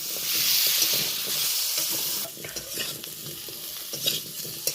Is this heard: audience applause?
no